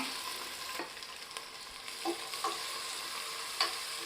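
Chopped onion frying in oil with fennel seeds for a prawn biryani gives a steady, close hiss and sizzle, with light stirring clicks and scrapes now and then and no voices.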